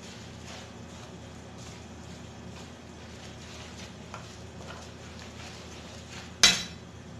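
A wooden ladle stirs ube paste in a pot over medium heat, making a soft continuous scraping with faint knocks and one sharp clunk against the pot near the end.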